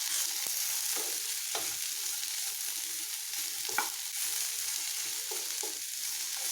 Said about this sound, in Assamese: তাৰপিছত ইয়াক ভালদৰে লৰাই আমি 4-5 মিনিটমানৰ কাৰণে এনেদৰে ভাজি ল'ম